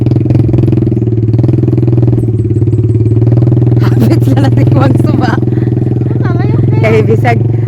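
A motorcycle on a joyride near a river runs with a steady mid-pitched engine drone and clatter that builds slightly, heard close up, while people shout and talk over it.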